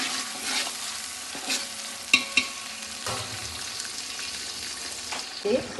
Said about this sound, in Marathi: आता याच्यामध्ये मी टोमॅटो प्युरी चांगले हलवून घ्यायची